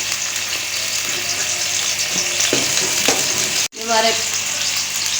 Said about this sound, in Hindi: प्याज़ों को थोड़ा सा फ्राई कर लेंगे हम